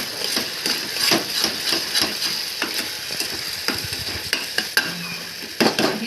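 Marinated paneer for chilli paneer stirred in a frying pan, with steady close sizzling and repeated scraping knocks of a spoon against the pan, alone without talk.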